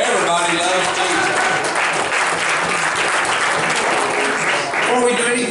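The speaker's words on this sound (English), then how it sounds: "Let's just give God an applause." A church congregation at a Christmas program claps loudly and continuously, dense hand-clapping filling the room with no break, some cheering voices mixed in.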